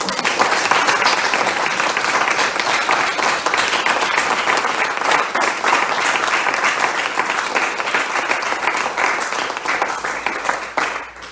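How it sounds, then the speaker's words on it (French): Sustained applause fills a town council meeting hall, dense clapping from a seated audience that stays strong and even for several seconds before tapering slightly at the end. "je souhaite qu'on les applaudisse encore une fois"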